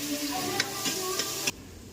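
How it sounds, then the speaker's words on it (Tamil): Onion, garlic and curry leaves sizzle in hot oil in a home kitchen, a close, bright frying hiss with a few clinking stirs of a spoon against the pan before the sound cuts abruptly quieter. "நான் வந்து இப்போ வெங்காயம் பூண்டு கருவேப்பிலை போடுறேன்ப்பா. இது நல்லா வதங்கட்டும்."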